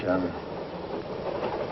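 Interior rumble of a moving passenger train, a steady low rattle and hum under a voice.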